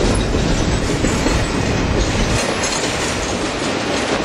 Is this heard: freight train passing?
yes